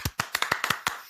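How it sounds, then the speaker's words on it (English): A handful of sharp, separate hand claps in quick irregular rhythm, close and dry, from a small group on a hydroponics podcast. "Big round of applause"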